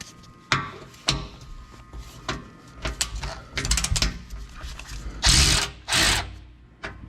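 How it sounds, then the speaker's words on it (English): A ratchet wrench loosening a 10 mm bolt on a 2021 Nissan Titan Pro 4X, heard as close, irregular bursts of metallic clicking and clunks with brief pauses between pulls. "loosen up the 10 millimeter in the back"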